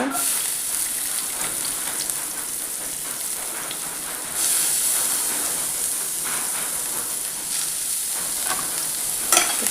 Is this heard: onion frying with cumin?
yes